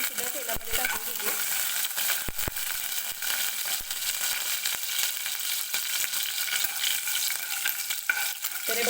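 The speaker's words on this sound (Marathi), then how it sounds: "हिरवी मिरची घेतली आहे मी 2-3, ती सुद्धा तेलामध्ये टाकून घेते." Green chillies and curry leaves frying in hot oil for a potato bhaji, a loud close sizzle with frequent metallic stirring clinks and scrapes against the pan.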